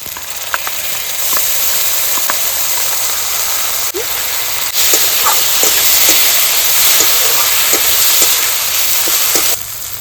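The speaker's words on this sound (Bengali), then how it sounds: "পেঁয়াজটা ভাজা ভাজা হয়ে আসছে দিয়ে দিচ্ছি আদা রসুন বাটা" Onions sizzle steadily in hot oil as ginger-garlic paste is added for a chicken curry, a continuous bright frying hiss with small spatters and crackles throughout, close and fairly loud, with no talk.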